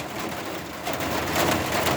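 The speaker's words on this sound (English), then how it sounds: "The rain's starting to come down." Steady broadband hiss of rain beginning to fall outdoors on a Halloween night, a dense even wash that swells slightly louder toward the end, with no voices over it.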